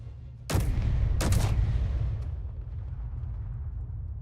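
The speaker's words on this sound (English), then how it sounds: "I will fire towards the bottom of the ship and see if I can't do some critical belly damage" Weapon fire strikes the underside of a ship in a video game, setting a hydrogen tank alight: two heavy booming impacts close together, followed by a long rumbling, crackling decay that fades slowly.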